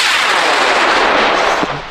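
A composite high power rocket roars off the pad at the LDRS 41 launch event: a loud, continuous broadband rush of motor thrust that holds steady, then thins slightly as it climbs away.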